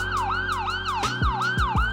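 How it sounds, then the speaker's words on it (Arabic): Police and ambulance sirens on a city street wail in fast, repeating rising and falling sweeps, loud and close, with deep honking blasts joining partway through. "مثل ما سمعت صوت الشرطة والإسعاف 24 ساعة ما يوقف"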